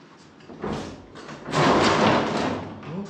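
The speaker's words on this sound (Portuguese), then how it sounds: "Caiu a porta, cara." A door falls down in a run-down guesthouse, landing with a heavy thud that swells into a broad crashing rumble, close and fairly loud.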